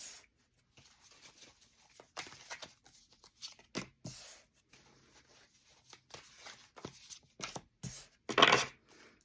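Tarot cards shuffled and handled at close range, with soft papery slides and crisp snaps coming in irregular bursts, one sharper riffle near the end, between short quiet pauses.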